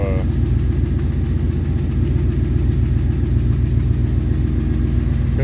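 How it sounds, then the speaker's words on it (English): A 1968 Ford 390 Interceptor V8 with a cooling problem idles steadily up close, its rhythmic low throb loud and even, with a fan whirring on top. "technically we started the car"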